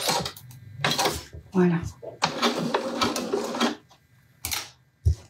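A domestic sewing machine starts up in short clattering bursts while a pouch is being sewn, with someone talking over and between the runs of stitching.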